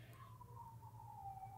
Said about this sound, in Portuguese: Uma sirene.